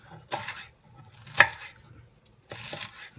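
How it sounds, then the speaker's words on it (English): Knife slicing tilapia on a cutting board for fish tacos, three separate close cuts, each a short scraping stroke with a soft knock on the board, spaced over a few seconds. "Just slice it right down like this, folks."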